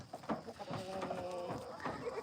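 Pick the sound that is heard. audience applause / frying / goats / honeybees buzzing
goats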